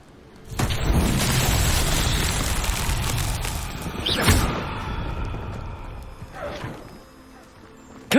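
In the Hogwarts Legacy game, a blasting spell sets off a loud, rumbling explosion that hangs for several seconds. A second sharp burst follows, then the noise fades into a softer, lingering tail and a final thump.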